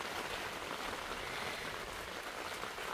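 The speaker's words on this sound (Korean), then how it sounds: "지금 또 빗방울이 좀 떨어지네요." Light rain falling outdoors over a garden of potted plants, with a steady close hiss of drops pattering on surfaces that holds even and unbroken, with no voices.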